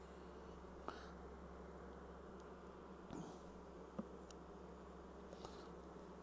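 A steady, low drone of many honeybees buzzing fills the air at a queen bee breeding apiary, with occasional nearby individual bees passing close and a few faint clicks.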